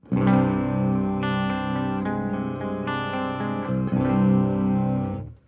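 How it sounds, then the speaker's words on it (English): Sustained electric guitar chords in drop C tuning ring out heavily processed and distorted through a Ceriatone Horse Breaker dual overdrive, shifting between a few low voicings before fading at the end. "Now it's time for a drop C tuned guitar."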